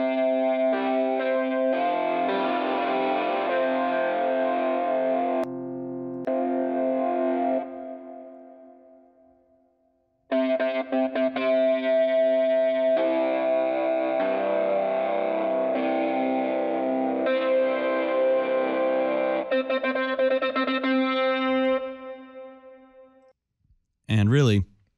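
A Sytrus synth patch imitating a DI guitar, pushed through heavy hardcore distortion in FL Studio 20, plays loud, buzzy sustained chords in two long phrases separated by a pause, ending with a short burst.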